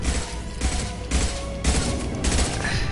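Submachine gun fire in a Mass Effect Remastered firefight: loud, close bursts of rapid automatic shots, four or five separate volleys with short gaps, layered over a constant rumble of combat noise.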